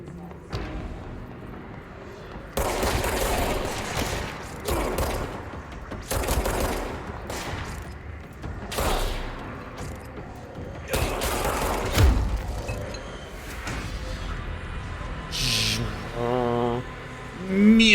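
Rapid hip-fire bursts from a weapon in the video game Control, several loud volleys spread through the clip with mechanical clatter and game effects between them, a voice talking over much of it.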